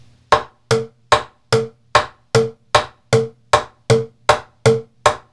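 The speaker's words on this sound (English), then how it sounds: "If I have the rim shot with my right hand, the middle of the drum with my left," Steady alternating drum hits on a plastic bucket, sharp cracking rim shots trading with deeper thuds from the center, about two strikes per second, close and alone.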